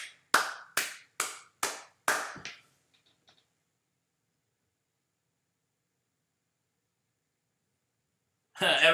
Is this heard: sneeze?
no